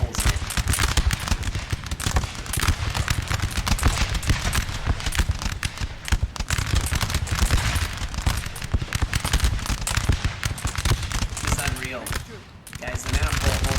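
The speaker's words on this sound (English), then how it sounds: "It's death by firing squad." Massed musket volleys in the Napoleonic: Total War 3 multiplayer battle mod crackle in dense, continuous rippling fire, with loud overlapping shots and a short lull near the end before the firing resumes.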